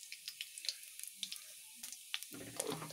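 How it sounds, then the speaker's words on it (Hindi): Cumin seeds and green chillies crackle in hot oil during daliya khichdi preparation, giving scattered sharp pops and ticks over a faint sizzle, with a busier burst of crackling near the end. "जब जीरा कहकर होने लगे चट चट चट चट चट चट"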